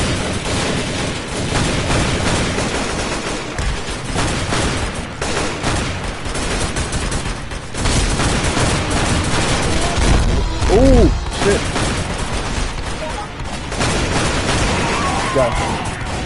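Gunfire in a Roblox shooter game, dense bursts of shots and booms crackling almost continuously for about sixteen seconds, loud and close, with a brief lull mid-way and people talking over it throughout.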